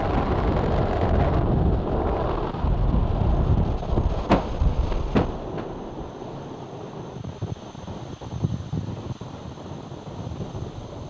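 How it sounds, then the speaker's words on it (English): SpaceX Falcon 9 rocket climbing after liftoff from Vandenberg Space Force Base, California, on the NROL-186 mission: a steady, loud, broad roar with wind buffeting, easing slightly as it goes on, with two sharp crackles partway through. "Falcon 9 has successfully lifted off from Slick 4 East at Vandenberg Space Force Base in California."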